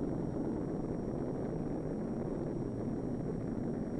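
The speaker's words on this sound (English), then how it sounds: "the rocket plane is carried to high altitude by a large transport plane" A large transport plane carries a rocket plane to high altitude, its engines a steady, dense, low droning roar that holds unchanged and fills the whole stretch with no other sounds.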